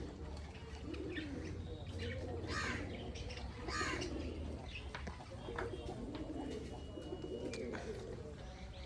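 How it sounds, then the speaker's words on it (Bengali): Pigeons coo repeatedly while feeding during breeding season, with chirps and distant caws mixed into a steady busy outdoor background. "দেখুন সব পায়রা তাড়াতাড়ি এখন করছে, সব ব্রিডিং, সব এখন ব্রিডিংয়ে মোড়ে আছে, সব খাবার খাচ্ছে এখন"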